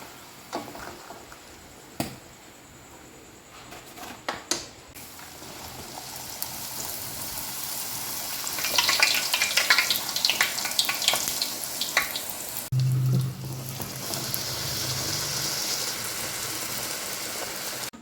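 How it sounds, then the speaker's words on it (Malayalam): Puris deep-frying one at a time in hot oil make a continuous crackling sizzle with occasional clatters, growing busier midway and joined by a low rumble later. "ഇനി നമുക്ക് ഓരോന്നായിട്ട് പൊരിച്ചെടുക്കാം. നന്നായിട്ട് ഫ്രൈ ചെയ്തെടുക്കാം."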